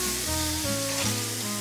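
A beef patty for a double cheeseburger sizzles in a very hot, lightly salted pan, giving a brief, steady frying hiss under faint tonal background music.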